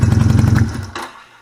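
A Honda Rebel 250 motorcycle engine, running with a fault on one cylinder after a spark plug wire is pulled, chugs in a rapid, even pulse up close, then cuts out and dies away.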